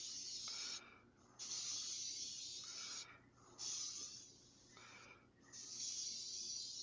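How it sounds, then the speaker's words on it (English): Bursts of green spray paint hiss from an aerosol can, three or four sustained sprays with short pauses between them. The sound is close and bright, with no talking. "I'm spraying the green again."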